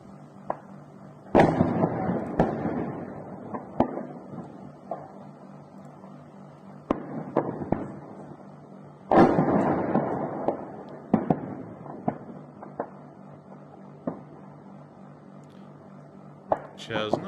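Distant explosions at a burning ammunition depot in the Ukraine war, a string of sharp bangs and crackling bursts at irregular intervals, with two heavier blasts standing out over a steady rumbling fire background.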